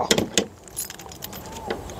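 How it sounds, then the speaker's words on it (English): A bunch of shed keys jangles in short metallic bursts, a few quick rattles close by over a quiet background. "Shed keys."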